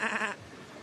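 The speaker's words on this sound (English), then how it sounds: "Is that a sheep?" A single sheep bleat, a short wavering cry that cuts off quickly and leaves faint background noise, heard at a pro/am motorsport event.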